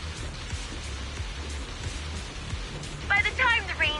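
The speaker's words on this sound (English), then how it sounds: "The wind and rain are picking up." Steady rain and wind from the video game Zenless Zone Zero, a dense, continuous hiss with low rumbling underneath, and a voice briefly speaking over it near the end.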